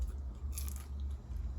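Close bites into homemade air fryer potato fries cut by knife and sprayed with oil, one sharp crunch in the middle followed by soft chewing and squishing, alone without talk.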